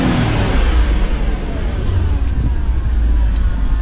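A 2012 Porsche Panamera Turbo engine runs loud and steady near the listener, a deep continuous rumble with a mild swell in revs and no speech over it.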